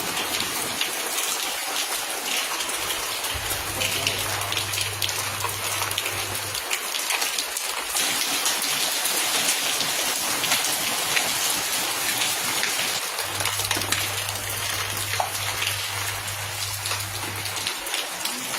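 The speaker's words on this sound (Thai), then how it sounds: "ฝนตกเห็นไหมฟ้าร้องแล้ว" Steady rain falls on a house during a light Thai shower, a dense even hiss of drops on surfaces running throughout with no voices, fairly close and continuous.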